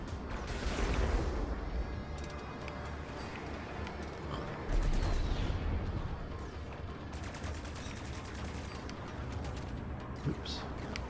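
Spaceship machine guns in Strike Suit Zero rattle in dense, continuous bursts, with heavy booming impacts and explosions layered beneath the rapid fire throughout.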